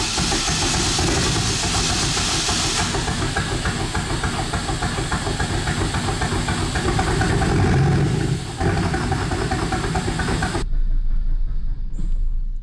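A barn-find 1993 Chevrolet Camaro Z28 V8, first started in ten years with starting fluid, runs loud and steady at idle with a dense rumbling hiss, then cuts off abruptly near the end.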